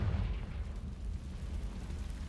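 A Confringo fire spell goes off in a wizarding video game, a heavy close boom with a rumbling low tail that fades over about two seconds.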